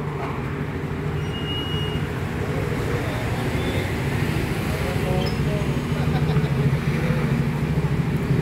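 Continuous street traffic on Jalan Pemuda, Rawamangun, in front of a cafe on an overcast day, a steady dense rumble of passing cars and engines with no clear breaks.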